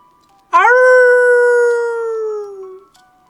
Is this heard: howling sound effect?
yes